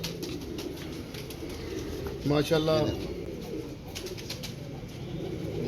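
Imam Deen pigeons in a loft give soft, low cooing close by, over a murmuring background, with a man's brief exclamation mixed in.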